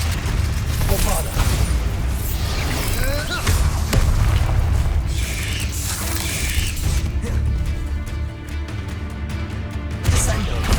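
Bombarda spell blasts in Hogwarts Legacy burst amid a chaotic duel, with repeated booms and crashing impacts over a dense rumbling bed, while a voice shouts spell names throughout.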